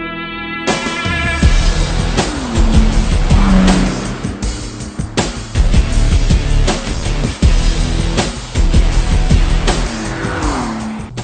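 A 2013 Bentley GT Speed Convertible drives hard on winding mountain roads, its engine revving and shifting loudly with repeated tire squeals through the bends.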